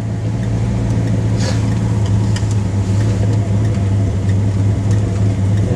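A 1978 Mercury Grand Marquis V8 idles steadily on a manually set choke, a loud, close, continuous low rumble with a constant hum and no voices.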